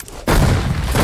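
A grenade blows up in the online shooter Hired Ops with one sudden loud, close boom that stays as a dense roaring burst for the rest of the brief moment.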